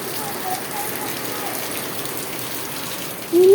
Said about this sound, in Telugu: చాలా వర్షం అయితే పడుతుంది